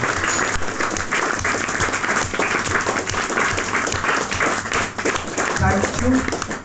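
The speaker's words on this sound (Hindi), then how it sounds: "तालियों की गड़गड़ाहट कम नहीं होनी चाहिए।" An audience at a club event applauds with sustained, dense clapping that continues steadily throughout, while a voice speaks over the applause.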